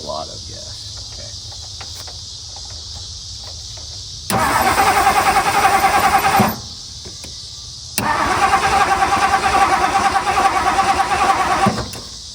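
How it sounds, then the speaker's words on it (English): A 1964 Mercury Marauder with a 390 V8 cranking and firing into two loud rough running bursts, separated by quiet stretches full of chirping crickets outdoors. "we're gonna see if we can get it to idle now a little better"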